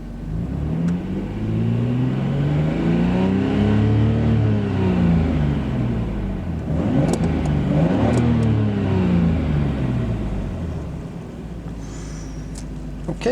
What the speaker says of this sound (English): I'll give it a little rev here.